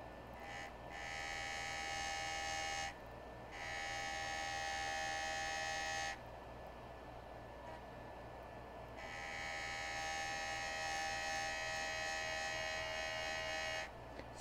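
A JOOLTOOL lapidary machine grinds a faceted sapphire cabochon, giving a steady electric whine and hum that swells louder in long stretches and drops back between them, close and alone without talk.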